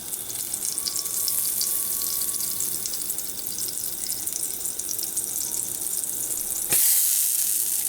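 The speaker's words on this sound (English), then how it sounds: "get some butter into your pan" Butter sizzles in a hot frying pan before American-style pancakes are cooked, a steady, close hiss that shifts abruptly near the end.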